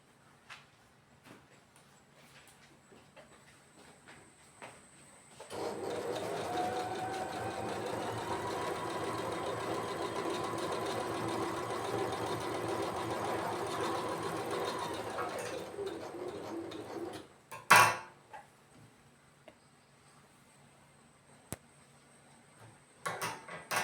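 Sewing machine running steadily while stitching the shoulder seam of a nightie, a continuous mechanical whir lasting about twelve seconds and then stopping, followed by a few sharp clicks and handling knocks.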